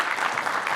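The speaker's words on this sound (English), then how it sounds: "round of applause" An audience applauds a speaker at a pitch competition, a steady wash of clapping heard briefly at moderate volume with no voices on top.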